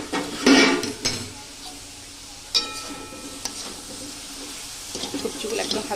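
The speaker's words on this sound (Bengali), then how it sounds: "কড়াইটা আবারও আমি একবার ঢাকনা খুলে নেড়ে দিচ্ছি" A lid lifts off a wok of mixed vegetables, and a spatula then scrapes and clatters against the pan over a soft sizzle, in a few sharp knocks spaced apart.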